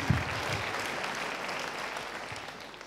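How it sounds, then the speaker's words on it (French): Audience at a French stand-up comedy show applauding, a continuous, moderately loud wash of clapping that fades slightly toward the end, with no talking. "il y en a de moins en moins qui applaudissent"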